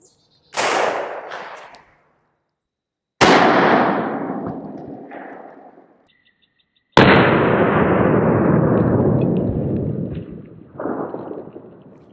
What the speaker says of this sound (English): So we're gonna fire it from our Smith & Wesson Model 29.